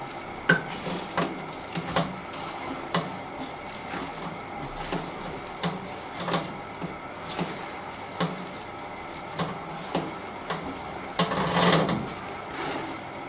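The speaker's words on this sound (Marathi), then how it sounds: "आता हे सगळं एकत्र करून घ्यायचं" Chopped coriander and spices being stirred into a potato filling for batata vada, with repeated scraping and clinking of a utensil against a metal pot over a steady kitchen background.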